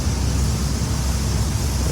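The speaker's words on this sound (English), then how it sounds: "it is a lot of sound from the river, from the waterfall" A river and waterfall in Norway rush in a steady, dense broadband roar, close and unbroken, with no voices.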